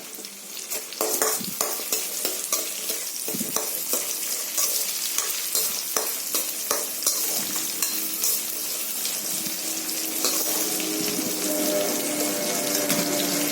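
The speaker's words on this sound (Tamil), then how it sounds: "பூண்டு போட்டதும் சின்ன வெங்காயம் போட்டுக்கோங்க. வெங்காயம் நல்லா வதங்கணும்." Shallots and garlic sauté in hot oil with a dense, continuous sizzle and frequent stirring clinks and scrapes, loud and close throughout, with a watery rush in the background and no talking.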